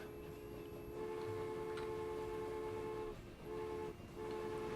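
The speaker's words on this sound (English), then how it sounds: "And we have another coal train coming in." A coal train rolls through in the Transport Fever video game with a faint, steady mechanical hum and tonal drone. Brief dips and soft ticks break it up.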